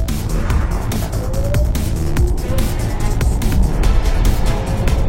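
A Tesla car drives along with a steady, loud rumble of road and tire noise inside the cabin, broken by occasional light clicks and knocks.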